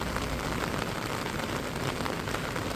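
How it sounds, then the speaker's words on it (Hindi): Steady rain falling in a Himalayan mountain village near Badrinath after snowfall, a constant broadband hiss of drops on surfaces at moderate volume with no breaks and no voices. "बारिश थोड़ी सी कम हो गई है लेकिन बारिश तो हो ही रही है"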